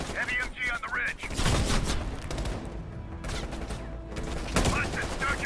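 Heavy machine gun fire rakes a ridge in Call of Duty: Black Ops Cold War, a dense sustained fusillade with booming impacts, loud and close, with voices talking over parts of it.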